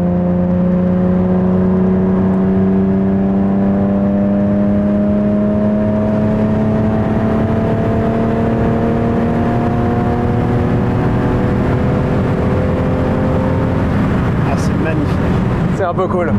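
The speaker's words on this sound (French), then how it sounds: "il y avait un bruit de moteur" A Ferrari Testarossa's engine hums steadily while driving, its pitch climbing slowly as the car gathers speed, loud and close from inside the cabin, with a brief clatter near the end.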